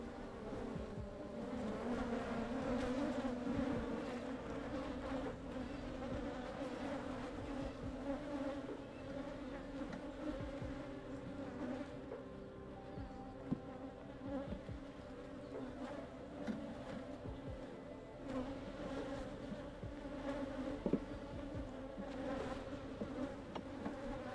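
Honey bees buzz steadily around an open hive during a spring inspection of established colonies, a dense continuous drone of many wings up close with no talk over it.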